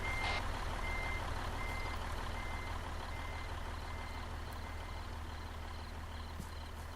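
A reversing truck in the military game Arma 3 sounds a steady series of evenly spaced backup beeps over a constant low engine rumble, with no talking.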